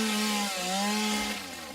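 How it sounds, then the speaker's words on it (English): A chainsaw in a video game, used for cutting trees and grass, with a steady buzzing whine that dips in pitch once midway and then carries on alone. "the chainsaw doesn't get all the grass"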